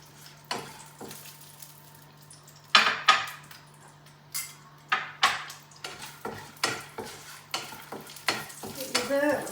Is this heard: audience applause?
no